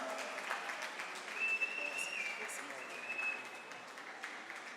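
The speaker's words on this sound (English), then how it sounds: "Some applause, please." An audience at the Eurobot 2024 robotics finals applauds to welcome a team, steady, fairly distant clapping with a faint whistle and some voices mixed in.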